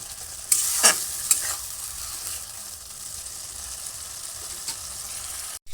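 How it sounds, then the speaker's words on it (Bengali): Spices being sautéed in a pan for a prawn and potato curry, with a steady sizzle and a few sharp spoon-against-pan scrapes near the start, then continuous frying hiss. "আমি এইভাবে ভালো করে মশলাগুলো কষিয়ে নেব।"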